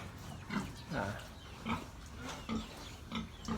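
Pigs grunt and squeal in a series of short, rough calls at a steady pace, fairly close, over a low background hum.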